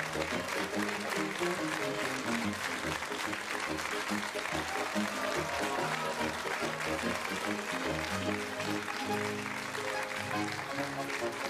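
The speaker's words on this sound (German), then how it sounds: "Applaus" Audience clapping at a Chiemgauer Volkstheater performance of Die drei Eisbären, continuous and fairly loud, mixed with steady tonal music playing alongside the applause.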